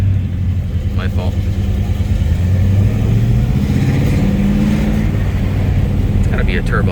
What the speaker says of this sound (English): It's gotta be a turbo muffler or something that sounds nice.